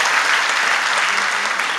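Studio audience applause on a comedy show, a dense, even wash of clapping from many hands held steady and loud from start to finish.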